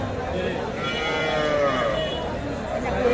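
Young calves and cattle at the Saturday Kaharol cattle market in Dinajpur give a drawn-out moo or bleat-like call midway, heard over continuous crowd chatter and market noise.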